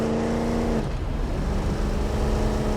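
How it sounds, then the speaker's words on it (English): Warthog vehicle engine driving in the Halo video game, a loud continuous engine drone with a pitch shift partway through, heard alone. "The Warthog sounds different."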